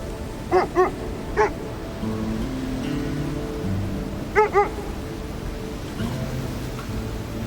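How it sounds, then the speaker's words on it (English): Sled dogs in a video game give two quick pairs of sharp barks, early and again near the end, over a steady backdrop of soft rain-like hiss and low game music. "I actually just took this girl's dogs. Her sled dogs."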